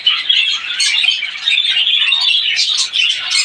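A chorus of two-day-old red-eyed hatchling birds squawks and chirps continuously at close range, with a dense, shrill, overlapping chatter that never pauses.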